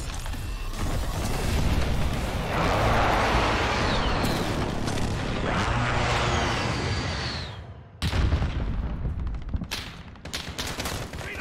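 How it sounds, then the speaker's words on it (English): Precision airstrike explosions in Call of Duty Modern Warfare, a dense rolling barrage of booms and gunfire that roars for several seconds, dips, then returns in sharper scattered blasts. "Friendly precision airstrike inbound."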